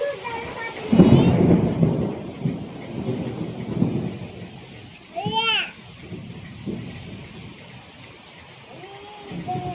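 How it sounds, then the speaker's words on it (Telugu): A village thunderstorm with heavy rain and strong wind: a loud rumble of thunder rolls in early on over a steady wash of rain, and children's voices and other people talk and call out through it. "వర్షం ఏం తగ్గుముఖం వేయట్లేదుగా"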